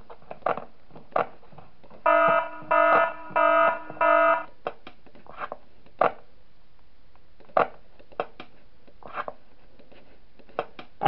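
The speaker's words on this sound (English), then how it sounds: "You just have to play the alarm when he's there." An alarm in the Five Nights At Smash Bros 3 video game blares as four harsh, buzzing electronic bursts in quick succession. Sparse clicks and thuds are heard before and after it.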